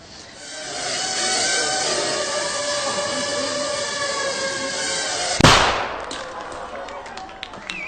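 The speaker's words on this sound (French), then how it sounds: "That little bang is enough to penetrate the skull and destroy the contents." A tiny shaped explosive charge of about 3 grams detonates with a single sharp, loud bang, cutting through a steady broadband whirring background and leaving a brief decaying tail.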